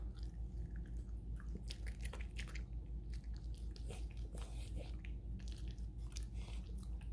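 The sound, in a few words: dog eating smoked brisket point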